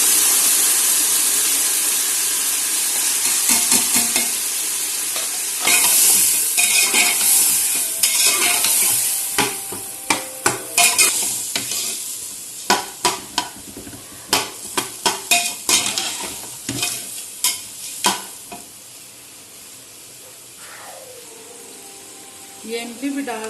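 Chickpeas and spices frying in a pot for chana achari pulao, with a steady sizzle under repeated scrapes and clinks of a spoon stirring against the pot, fading toward a quieter simmer near the end.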